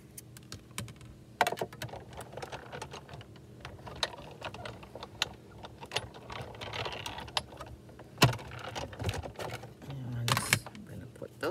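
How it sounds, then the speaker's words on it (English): A die cutting machine cuts paper for a sweater-themed card, producing a steady run of small mechanical clicks and clunks with a few sharper knocks, close and moderately loud. "I'm going to die cut all of those."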